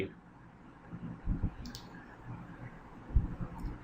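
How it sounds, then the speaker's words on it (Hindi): A computer mouse clicking a proceed button during an online BSNL prepaid mobile recharge, two soft, dull clicks a couple of seconds apart over faint room hiss. "ऊपर ये प्रोसीड का जो बटन है, प्रोसीड में आप क्लिक करेंगे तो आगे बढ़ेगा।"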